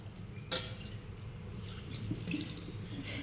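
Tap water runs into a sink while a plate is washed, a soft steady splashing stream close by with a brief louder gush early on, no voices.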